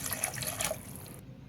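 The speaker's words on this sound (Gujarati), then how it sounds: "અહીં હું એકથી બે ગ્લાસ જેટલું પાણી એડ કરી રહી છું" Water poured from a glass into a pan of spiced curd mixture for vaghareli khichdi, a steady, fairly quiet rushing pour that stops abruptly near the end.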